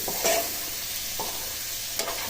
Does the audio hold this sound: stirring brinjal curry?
yes